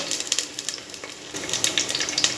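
Small shallots frying in oil with fenugreek and curry leaves for a Kerala-style sardine curry, crackling and spitting in quick bright bursts, close and moderately loud.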